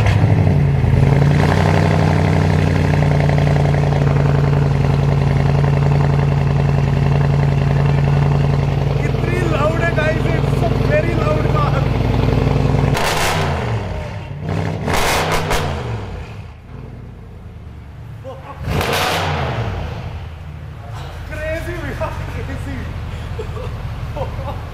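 A modified Audi S6 exhaust, roughly eleven seconds of loud revving and idle, then the engine dies back to a low rumble with occasional blips, voices talking over the later part.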